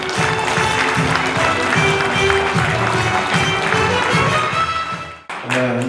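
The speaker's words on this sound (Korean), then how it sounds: "큰 박수로" An audience at a leadership lecture event applauds loudly and continuously for several seconds, the dense clapping broken by a brief dip before resuming.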